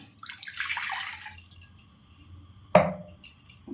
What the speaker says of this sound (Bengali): 500 জল গরম করতে দিলাম